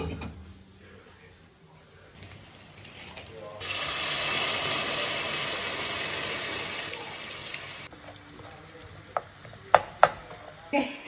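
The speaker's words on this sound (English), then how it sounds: "Okay, so we have sausage, pasta. I'm just now searing it." Sausage sears in a pan: a quiet kitchen gives way to a loud, steady hiss of frying that lasts several seconds, then stops, followed by sharp clinks of utensils.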